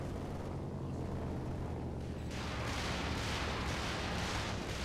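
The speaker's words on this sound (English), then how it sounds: "My mortar gun is going." Mortar fire in Company of Heroes 2 on the Port of Hamburg map rumbles in a dense wartime din that swells sharply partway through into louder overlapping blasts.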